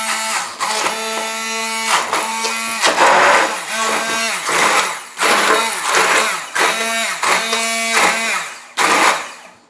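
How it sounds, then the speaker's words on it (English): A stick blender whizzes a homemade tomato ketchup mixture of home grown tomatoes in about eight close, loud bursts of high motor whine, each separated by a brief pause. "So I've just whisked it up with the stick blender"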